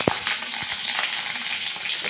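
Chopped garlic, five or six cloves, and curry leaves fry in hot oil for a leftover dal dish, with a close steady sizzle and a few sharp crackles and spoon knocks near the start, no voices.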